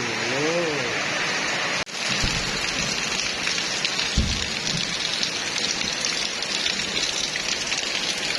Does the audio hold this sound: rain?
yes